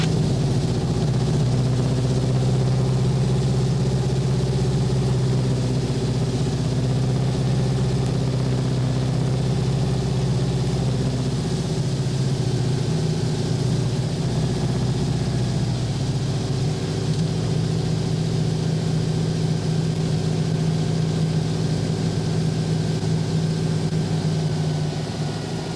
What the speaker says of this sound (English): I'm gonna little run up here, run up the engine, check the ignition, prop,